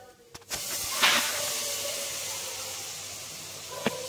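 Soy sauce hits a hot pan of vegetable fried rice with a sudden loud hiss that flares after a clatter, then settles into a long, steady sizzle with a faint knock near the end.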